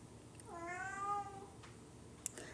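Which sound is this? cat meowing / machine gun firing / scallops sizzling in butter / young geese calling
cat meowing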